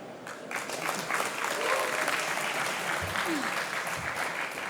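Louder, fuller applause from the audience at a French start-up pitch final, a steady wash of clapping that swells after the first half-second and holds strong to the end, with a faint voice briefly underneath.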